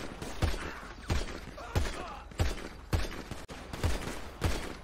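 Rapid repeated gunfire in GTA V roleplay as a magazine is emptied, seven or eight loud heavy shots at a steady rhythm, close and dominant.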